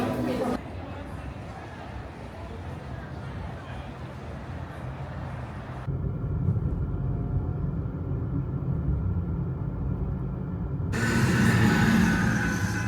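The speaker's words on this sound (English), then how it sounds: "Is the Amtrak Pacific Surfliner" An Amtrak Pacific Surfliner passenger train rumbles steadily past at Cardiff Beach, a broad, continuous roar that thins and shifts midway and swells again near the end, with no one talking.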